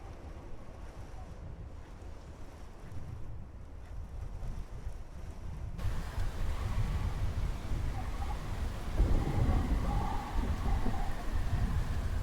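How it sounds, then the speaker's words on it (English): A heavy storm from the video game WILL: Follow The Light roars as a continuous wash of wind, rain and surf, growing louder partway through and holding steady, with no voices. "I have never seen a storm this bad before."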